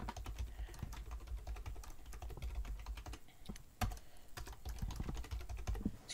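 Steady, rapid keyboard typing with clustered key clicks and a few sharper strikes, close and continuous, with no talking.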